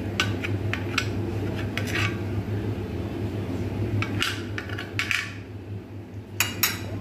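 A knife spreads butter all over slices of bread for cheese toast, producing short scraping strokes close by, with several quick bursts of scraping over a low background hum.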